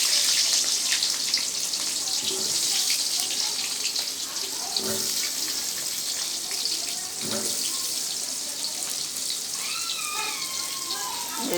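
Potatoes frying in hot oil at an outdoor home kitchen beside a canal, a continuous bright, close sizzle with occasional soft pops and faint background voices.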